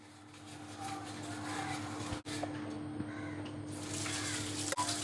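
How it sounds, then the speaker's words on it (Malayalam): Water pours steadily into a cooking pot holding navara rice, a continuous splashing stream with a brief break partway through and no talk over it. "വേകാൻ ആവശ്യത്തിന് വെള്ളം ഒഴിച്ചു"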